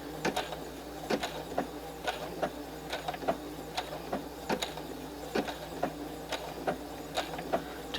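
A sewing machine stitching a quilt border at a shortened stitch length makes a steady series of sharp mechanical clicks, close by and moderately quiet, with no one speaking.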